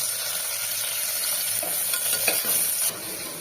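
Onions sizzle and fry steadily in a hot pan, with a constant crackling hiss and a few soft stirring scrapes nearby.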